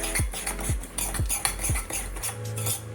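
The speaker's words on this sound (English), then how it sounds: "I'm just gonna mix this together because I have quite a bit" Butter garlic seafood boil sauce being stirred with mussels in a pot, a spoon knocking the pot in four evenly spaced scrapes and clinks over a faint sizzle, close and clear.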